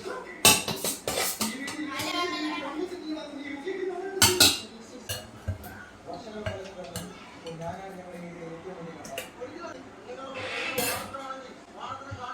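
A large metal milk vessel, about 1.5 litres, clanks and clinks as it is handled in a home kitchen, with scattered sharp metallic knocks amid ongoing conversation and a dog whimpering faintly.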